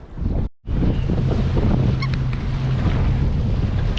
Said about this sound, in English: the wind is proper picking up